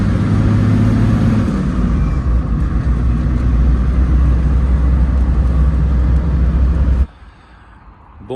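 A car out on a road in Morocco rumbles loudly and steadily with engine and road noise, then cuts off sharply to a quiet interior hum near the end.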